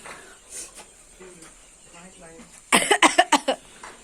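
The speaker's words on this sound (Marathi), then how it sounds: "खोकला काही कमी नाही माझा" Several quick harsh coughs burst out in a row near the end, following some quieter talk.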